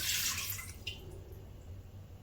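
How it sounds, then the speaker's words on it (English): A short burst of water pouring into a metal pressure cooker pot, close by, tapering off into a quiet low hum. "I'm going to try and pour just 1 cup in here and the other cup in there"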